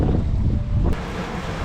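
Wind buffets the microphone aboard a sailing catamaran at sea in about 10 knots of breeze, a steady low roaring rumble with water rushing beneath, close and continuous with no talk.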